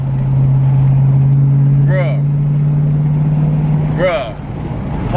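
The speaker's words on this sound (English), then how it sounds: "Boy, that AWE exhaust sounds so good." A Jeep Trackhawk fitted with an AWE exhaust gives a steady, loud low drone, rising in pitch around two sudden revs, while a person talks over it close by.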